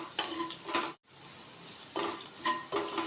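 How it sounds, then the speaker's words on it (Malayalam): Onions and crushed chilli sizzle in a pan for a Kerala tapioca stir-fry, with a steady frying hiss under repeated scraping stirs of a spoon, briefly cut by a short gap. "അപ്പോൾ ഉള്ളിയും ക്രഷ്ഡ് ചില്ലി പൗഡറൊക്കെ നന്നായിട്ട് മൂത്ത് വന്നിട്ടുണ്ട്."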